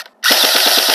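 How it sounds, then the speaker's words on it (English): An HK416 6mm BB airsoft electric rifle fires in a rapid full-auto burst after a short pause, each shot a sharp close crack in a steady fast rhythm over the continuous whir of the gearbox. "Just shoot it all, like rapid fire and see how it does."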